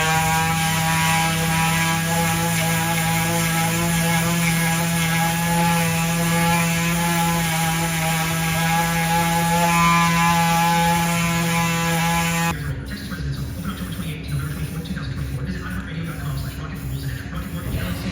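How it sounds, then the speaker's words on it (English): A small sander runs on a steel truck frame with a steady, loud mechanical whine and strong hum for about twelve seconds, then cuts off, leaving rougher, scratchy motor noise. "Sand down them old hammer marks"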